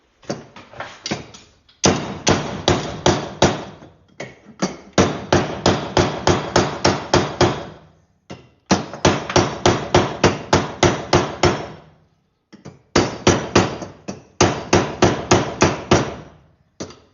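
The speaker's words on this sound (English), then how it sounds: "hammer." Hammering in a knife workshop: runs of rapid, evenly spaced metallic blows, loud and close, broken by short pauses between bursts, with no talking.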